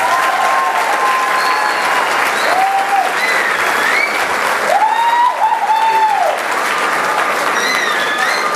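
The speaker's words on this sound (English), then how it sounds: "let's have one more round of applause for the Garnet Band" An audience at a 2018 Watervliet Jr/Sr High School spring concert gives a school band sustained, dense applause, with whistles rising and falling above the steady clapping.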